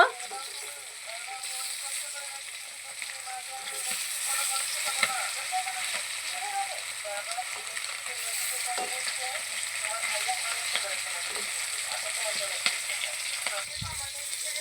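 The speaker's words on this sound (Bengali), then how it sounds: "মাছগুলো আমি লাল করে ভেজে নেব" Three pieces of fish fry in hot oil with a continuous soft crackle and sizzle, occasional stirring clinks, held at an even, moderate level.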